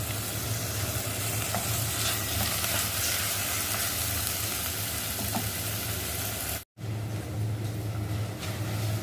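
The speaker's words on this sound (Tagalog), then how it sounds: "nagisa ako ng sibuyas at bawang dahil magluluto tayo ng miswa" Onion and garlic sautéing in a pan, a steady loud sizzle and frying hiss with occasional stirring scrapes and a low hum beneath, broken by a brief cut to silence near the end.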